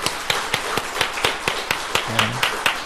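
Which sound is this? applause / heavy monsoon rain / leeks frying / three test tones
applause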